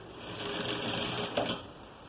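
A domestic sewing machine stitches pajama pant fabric, running steadily and fairly close with a fast, even mechanical chatter for about two seconds and no voices over it.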